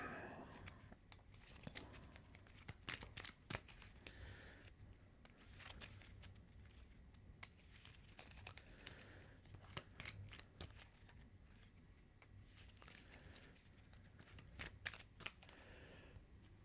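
A deck of Earthborne Rangers game cards is shuffled in several quick riffling bursts, each a crisp flutter of snapping card edges, close and quiet, separated by brief pauses with soft handling in between.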